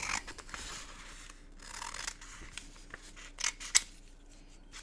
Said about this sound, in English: So I'm just going to cut off this bottom section.